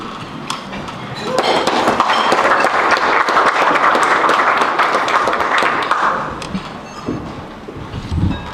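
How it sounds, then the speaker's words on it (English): Sustained applause from the audience at an educators' hall of fame induction ceremony, a dense steady clatter of many hands that swells, holds for several seconds, then tapers off. "Thank you for the applause."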